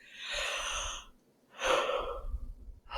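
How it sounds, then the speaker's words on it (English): A person yawns twice, each a drawn-out breathy exhale close to the microphone, separated by a brief quiet pause. "when I read, I yawn"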